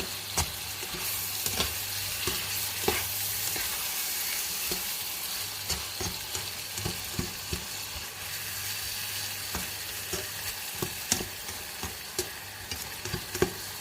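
Watermelon rind stir-fried with egg in a pan, a continuous close sizzle under repeated spatula scrapes and taps in an uneven rhythm, with no voices.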